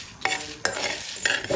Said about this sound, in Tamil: இப்போ இது எல்லாத்தையும் மொத்தமாக சேர்த்து ஒரு 3 நிமிஷம் வறுக்க போகிறோம்.